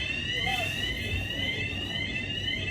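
An electronic fire alarm sounds inside a youth correctional facility, a steady high-pitched ringing tone that holds throughout at moderate level, with faint room noise beneath.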